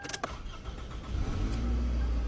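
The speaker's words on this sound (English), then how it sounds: "It's only right that I go ahead and start it up for you guys." A 20-year-old Toyota Camry engine starting, a few quick cranking clicks then the motor catching and settling into a steady low idle, close and alone.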